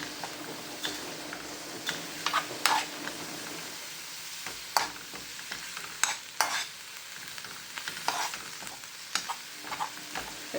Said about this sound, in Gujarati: એકથી બે મિનિટ શેકવાનું છે, બહુ ને આવી રીતના તેલમાં, ઘીમાં